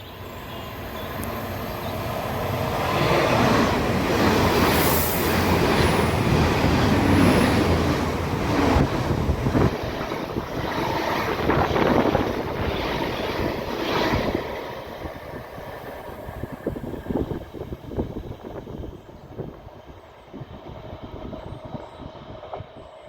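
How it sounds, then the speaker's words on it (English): A TransPennine Express service from Hull to Manchester Piccadilly passes through Crossgates station, building from a distant rumble to a loud close roar of wheels and carriages, then fading away with faint rail squeal. "On the approach is shortly to be the TransPennine Express service from Hull to Manchester Piccadilly."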